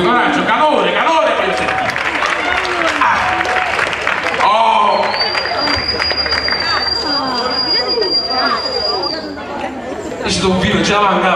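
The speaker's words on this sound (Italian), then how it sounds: "Un applauso forte, coraggio, calore, calore" Applause and chatter from the crowd at an outdoor summer folk concert in Solopaca-Capriglia, steady dense clapping mixed with voices, plus a sustained high whistle or squeal through the middle.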